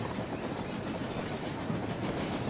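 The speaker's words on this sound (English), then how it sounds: "You are driving the train." A train driven in the Rolling Line VR game rumbles steadily with a continuous rolling, rattling wheel noise, moderate and unbroken, with no talk over it.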